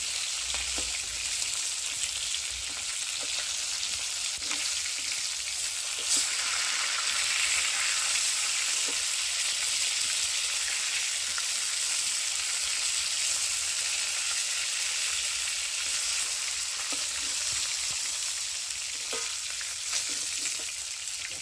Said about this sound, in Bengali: মাথাগুলো তুলে নিয়েছি, ভাজা হয়ে গেছে।